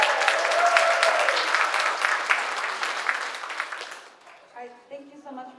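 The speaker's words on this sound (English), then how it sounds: "So give them another round of applause." Audience applause after a film festival screening Q&A, a full round of clapping that gradually thins and dies away, followed by a brief quiet tail with faint voices.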